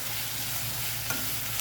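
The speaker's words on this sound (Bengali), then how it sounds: "লবণ দিয়ে একটু নেড়ে চেড়ে নেই।" Dried bamboo-leaf fish curry frying with onions in a pan gives a close, even sizzle, broken by a light scrape of stirring, brief and fairly quiet, with no talking.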